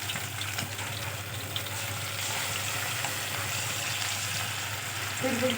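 Marinated chicken 65 frying in hot oil in a kadai, a steady close sizzle and crackle running throughout with a brief stir near the end.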